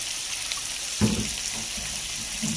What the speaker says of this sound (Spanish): Y le agrego un poquito de agua.